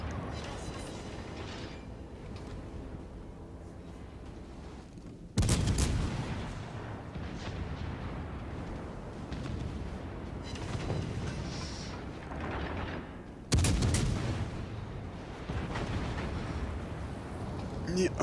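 Naval guns booming in World of Warships Legends, two heavy salvos striking loud and sudden about eight seconds apart over a steady rumble of game sound, with someone talking throughout.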